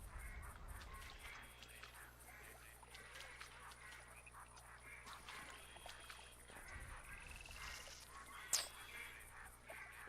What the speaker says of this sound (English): Wow, lots of ducks coming in now.